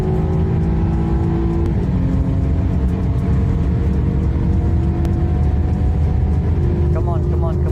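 A BMW F-series car with the N20/N26 engine accelerates hard, its steady engine drone and harmonics rising continuously and loudly through the run, with a person talking over it.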